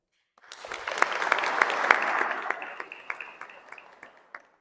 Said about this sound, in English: I'd like to say the audience is very good at applause.